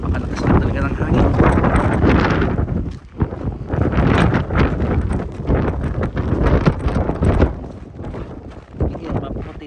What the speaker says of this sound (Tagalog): Napakalakas na talaga ng hangin